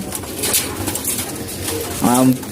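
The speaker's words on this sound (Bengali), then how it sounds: "পরে কবুতরগুলো সবগুলা খাবার দেই" Pigeons coo near the end in a short, deep, rounded burst, heard over a low, busy background murmur.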